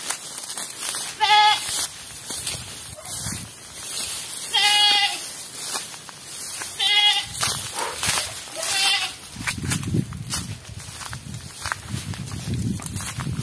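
Goat near an abandoned house in the woods, giving four or five loud, quavering bleats close by over rustling steps through thick brush, with louder crunching movement toward the end.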